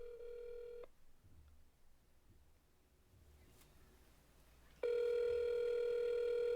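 A telephone tone sounds briefly, cuts out to a quiet room, then returns as a loud steady electronic tone.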